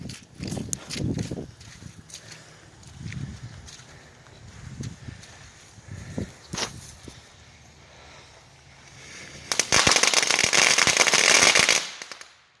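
Small leftover fireworks set off outdoors: a few scattered pops and crackles early, then a dense, loud burst of rapid crackling from about 9.5 to 12 seconds that all goes off at once before fading.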